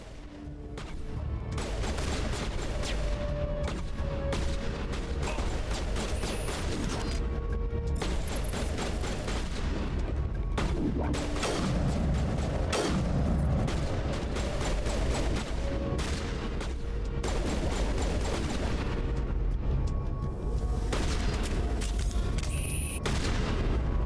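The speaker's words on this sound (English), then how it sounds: "Oh, why did you run in front of gunfire?" Dense, continuous gunfire and booming blasts from a firefight against a horde of goons on the Citadel in Mass Effect 1 Legendary Edition, loud and relentless throughout with rapid overlapping shots.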